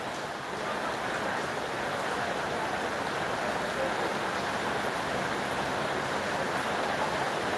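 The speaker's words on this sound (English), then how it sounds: "Like the noise of the rain is distracting me." Rain falls outside in a steady, even hiss of moderate loudness that fills the whole stretch, with no talk.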